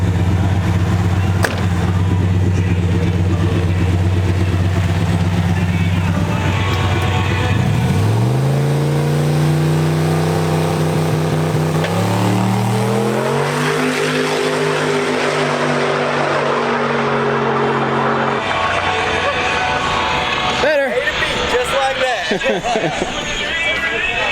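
A turbocharged LS-swapped Nissan truck revs hard in a burnout, loud and close, its engine note climbing in stepped pitches as the throttle is worked, with crowd babble around it.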